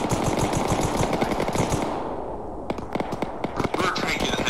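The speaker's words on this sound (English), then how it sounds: "We're taking a heavy fire." Heavy gunfire in the military shooter game Arma 3: rapid machine-gun bursts and repeated shots crackle loudly, pause briefly, then resume in sharp clusters, with voices talking over the firing.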